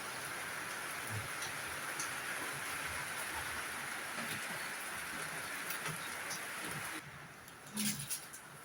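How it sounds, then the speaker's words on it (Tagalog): Steady heavy rain pours down in a dense, even hiss, with a few faint knocks and a brief dip near the end. "Lumakas ang ulan."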